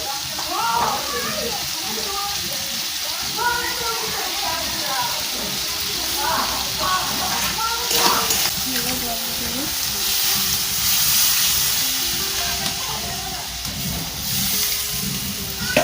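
Potatoes sizzle and fry in a pan while neem leaves and potato are cooked, a steady close frying hiss with stirring and clatter throughout and a voice talking over it.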